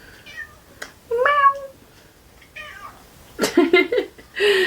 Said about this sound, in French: le chat est en train de rentrer dans un sac cadeau